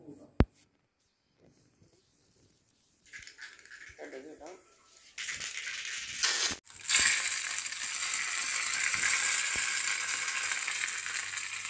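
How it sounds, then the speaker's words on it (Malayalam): Mustard seeds frying in hot oil for a horse gram curry, a quiet start with a sharp knock, then a loud, steady crackling sizzle that fills the rest of the moment. "ഇനി കടുക് വറുക്കാം."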